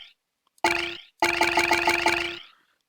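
A mixed-direction chime in the Selenitic Age of the Myst video game rings out as bright metallic ding tones, a short strike followed by a longer run of five or six quick repeated clangs, near and clear, then fades to silence.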